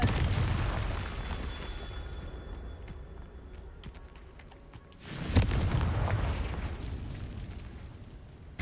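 A Confringo explosion spell going off in Hogwarts Legacy: one sudden loud blast near the middle, rumbling and crackling for several seconds afterwards, preceded by lower ambient rumble with a faint ringing tone.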